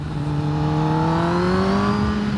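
A 2021 Kawasaki ZX-10R engine holds a loud, steady high-rpm drone that rises slowly in pitch while riding, heard close from the rider's position with wind noise.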